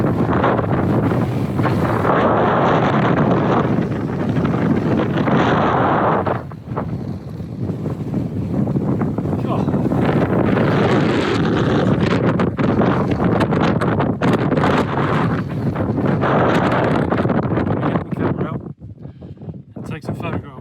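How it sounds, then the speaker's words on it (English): Strong, gusty wind buffeting a microphone on an exposed hilltop, loud and roaring throughout with surges and dips and a sudden drop near the end, while someone speaks faintly underneath. "trying to speak in this wind is damn difficult"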